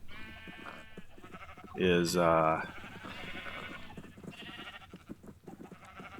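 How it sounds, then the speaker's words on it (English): Sheep give one loud, close, wavering bleat among other quieter farm animal sounds, while someone talks over them. "I want to release a couple sheep."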